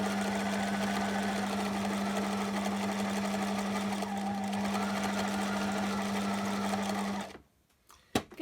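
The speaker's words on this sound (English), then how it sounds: "So I'm going to start with 2 stitches, reverse, and then sew down." A sewing machine stitching a faux leather purse seam runs with a steady, close whir for about seven seconds, then stops, followed by a few soft clicks.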